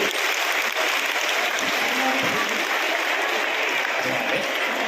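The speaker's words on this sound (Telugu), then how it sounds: "ఒకసారి గట్టిగా చప్పట్లు కొడితే వాళ్ళని ఆశీర్వదించినట్టేటండి" An audience at a temple religious gathering claps steadily and enthusiastically, a dense, sustained round of applause from start to finish.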